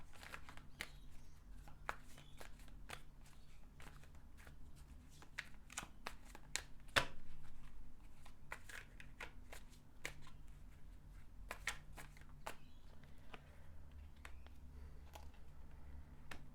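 Tarot cards are shuffled and handled close by, giving soft, quiet riffles and scattered crisp taps over a low background hum, with no speech.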